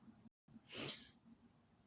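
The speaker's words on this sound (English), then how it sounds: "Sorry, I sneezed." A single sharp, breathy sneeze bursts out once, close and brief, after a moment of near silence with soft background hum.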